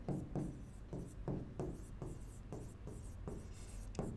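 Marker or chalk strokes on a board during a physics lesson, a steady rhythm of short scratchy writing strokes repeating about twice a second, close and fairly quiet, with no talking.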